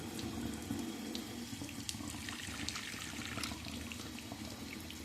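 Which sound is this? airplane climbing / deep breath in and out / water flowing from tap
water flowing from tap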